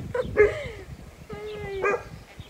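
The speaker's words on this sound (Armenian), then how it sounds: "շունը աչեց" A dog barks close and loud, giving two drawn-out, yelping calls about a second apart with a quieter whine between them.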